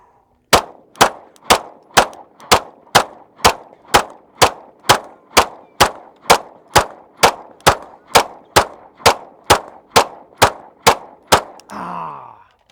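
Handgun shots fired at targets during a warmup drill, about two dozen sharp, evenly spaced reports in a steady rhythm, loud and close, followed by a brief clatter at the end; no talking.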